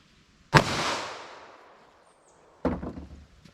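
Two sharp gunshots from a .38 Special +P 158 gr LSWC-HP load fired through a 3-inch barrel into ballistic gel outdoors, each a loud crack with a decaying echo, about two seconds apart.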